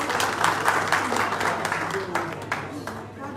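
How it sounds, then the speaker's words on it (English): Applause from a town hall meeting and fundraiser crowd in Manchester, UK, thanking a donor; fairly loud, continuous clapping from many hands, with voices faintly audible underneath and the clapping thinning slightly toward the end. "Can we please give him a round of applause?"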